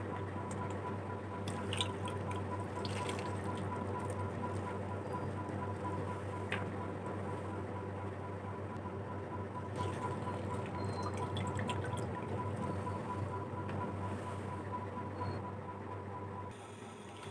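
Water drips and squishes out of bitter gourds squeezed by hand in a home kitchen. The soft drips and wet squeezes are quiet against a low background hum.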